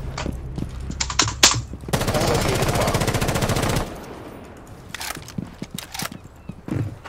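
Rapid automatic gunfire in Rainbow Six Siege, played on PC, sounds as one sustained burst of about two seconds amid scattered sharp single shots and clicks, fairly loud, with no talk over it.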